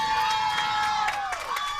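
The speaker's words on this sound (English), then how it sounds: "And she just got her crowd excited." A home crowd cheers at a Senior League softball game between Texas and Brazil after a leadoff single, a sustained wash of distant voices with tonal shouts rising over it.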